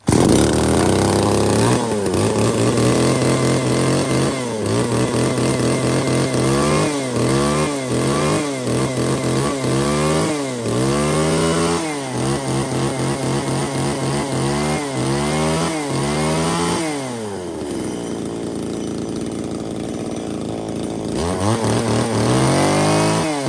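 A 33cc chainsaw engine runs steadily after a pull start, loud and close, revving up and down repeatedly with sweeping pitch changes, then idling lower before revving again.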